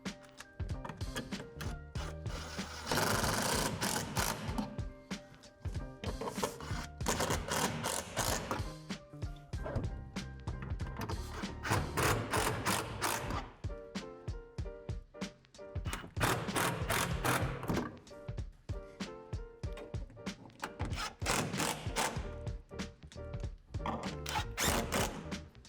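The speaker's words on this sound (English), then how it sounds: "Now secure the shelf to the brackets using 2 screws each." Screws driven through a plastic shed shelf into metal brackets during outdoor storage shed assembly, with repeated bursts of whirring, ratcheting power driver noise and mechanical clicks, loud and close, several separate runs over the span.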